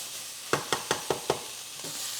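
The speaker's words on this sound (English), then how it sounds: "I'm going to give them just a couple of extra minutes just to get some color on the sausage and to slightly caramelize them" Italian sausage, sliced peppers and onions fry in a skillet over high heat under a faint sizzle, broken by five quick, evenly spaced stirring scrapes.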